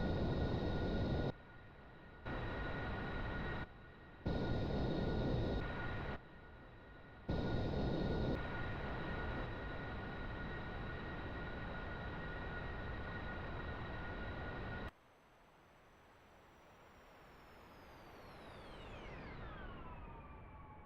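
An aircraft passes in a flyby within the AeroFly FS2 flight simulator game, first a steady engine roar broken by abrupt dropouts, then a quieter rumble as a high whine sweeps steeply downward while it goes by.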